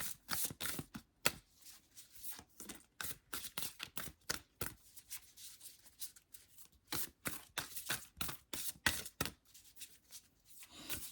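Rapid, repeated riffling of tarot cards being shuffled close by, bursts of crisp flutter coming in quick uneven runs with no talking.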